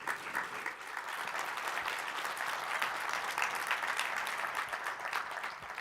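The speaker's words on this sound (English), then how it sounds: "Please give yourselves a round of applause." Sustained applause from a conference audience at a student success event, steady dense clapping throughout at an even level with no talking over it.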